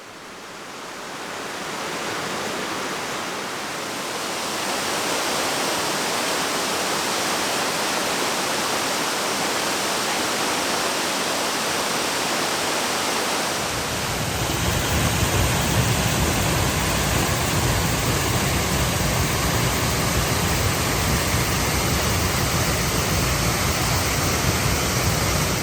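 Steady, broadband rushing of Garden Creek Falls near Casper, Wyoming, fairly close, growing fuller and louder partway through as the roar of falling water fills in the low end.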